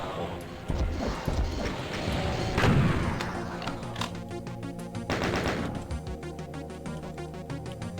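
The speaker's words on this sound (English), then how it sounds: "And we'll use rockets on the spiders down here." Rockets fired at spiders in a Doom map called Arrival: heavy blasts and crashing impacts in overlapping bursts, loud and close, with rapid rattling gunfire and game music continuing after the explosions.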